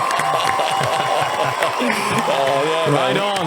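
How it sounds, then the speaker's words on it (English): Crowd applause and cheering rise under lively overlapping talk, with voices speaking over the clapping throughout. "Do you have applause for us? Yeah, I have it."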